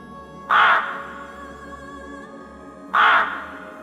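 A raven caws loudly twice, two harsh, rasping calls about two seconds apart, close by over a quiet background.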